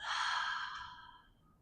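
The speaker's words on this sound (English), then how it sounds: "Exhale out the mouth." A single slow breath exhaled out through the mouth during a beginner yoga practice, a soft airy sigh that starts strong and fades away over about a second and a half, close and alone.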